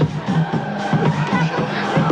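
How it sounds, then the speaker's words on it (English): Crowd noise rises from the stands before an intense game, a dense murmur of many voices with scattered shouts pulsing through the steady roar. "I got the exterior microphone to get the crowd noise."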